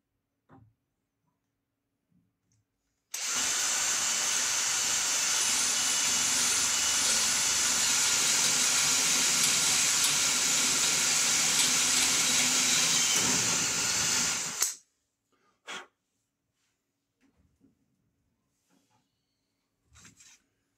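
A drill bit bores into an old wooden barrel with oil on it for cooling, a loud, continuous hiss that runs for about eleven seconds and then stops, followed by a few faint knocks.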